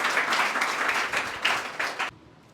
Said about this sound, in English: Mr. Piyush Boy, give him a huge round of applause, guys.